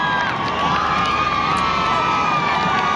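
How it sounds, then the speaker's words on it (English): A large, lively crowd cheers and shouts continuously at a Sri Lanka versus New Zealand T20 World Cup cricket match in Colombo, a dense roar with children's shrieks rising above it throughout. "Proper crowd in Colombo"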